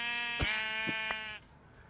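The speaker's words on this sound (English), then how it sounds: "see if Barbar Black Sheep wants to give me any wool" A sheep bleats in a video game with a single drawn-out, nasal call. A few soft thumps sound under it before it cuts off into near quiet.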